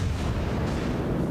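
A battleship's guns fire in a naval video game, giving one dense, loud, rumbling blast that fills the short moment with no speech over it.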